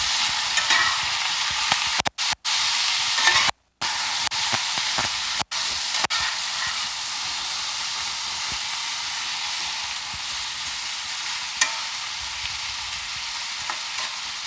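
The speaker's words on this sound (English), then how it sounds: "Let's stir that around. See how the potatoes are starting to brown up?" Potatoes browning in a cast iron skillet give a steady, loud sizzle, with a few brief gaps where stirring breaks the frying noise; no one talks.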